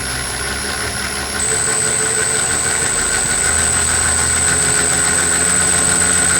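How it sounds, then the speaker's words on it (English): A Marksman smart pump runs continuously with a steady mechanical hum and whine, holding a constant level that grows slightly louder partway through, with no talking. "So if we start the pump again"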